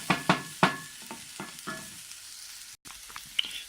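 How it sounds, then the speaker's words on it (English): A wooden spoon stirs stuffed peppers for dolmeh in a pot over a gas flame, giving a few sharp scraping knocks at first, then softer, sparser scrapes close by with no talk. "it's now I'm stirring with a wooden spoon, making sure it will not burn"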